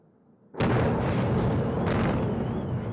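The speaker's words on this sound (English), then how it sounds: "Kiev's night sky was lit by successive explosions as a barrage of Russian missiles rained down on the Ukrainian capital." A Russian missile strike hits Kyiv at night: after a quiet moment a sudden heavy blast erupts into a loud, sustained roaring rumble, with a second surge of the boom a little over a second later.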